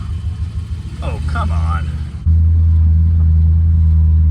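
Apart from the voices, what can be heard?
1976 Dodge Coronet CHP 440 engine starting and revving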